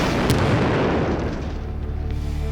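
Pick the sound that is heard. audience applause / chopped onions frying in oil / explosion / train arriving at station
explosion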